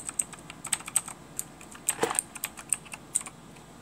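Typing on a Redragon Indrah RGB mechanical keyboard, a close, crisp run of clicky keystrokes in an uneven rhythm with one brief louder cluster, no voices.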